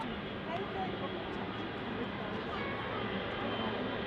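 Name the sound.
Boeing 777 twin-engine aircraft at Manchester Airport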